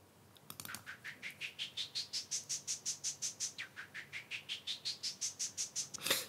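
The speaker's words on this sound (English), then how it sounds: "Kind of like a white noise rhythmic thing." Rhythmic white-noise synth pattern from a Logic ES1 synthesizer, a fast, even sequence of short bright noisy pulses sweeping upward and back in pitch, fairly quiet and alone.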